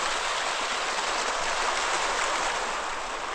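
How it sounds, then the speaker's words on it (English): Small steaming hot-spring waterfall at Kusatsu Onsen in Japan, a constant close rushing hiss of falling water with no break or voices. "Got the steamy waterfall,"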